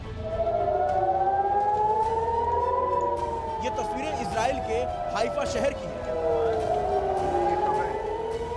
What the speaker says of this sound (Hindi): लगातार यहाँ सायरन की आवाजें सुनी जा रही हैं।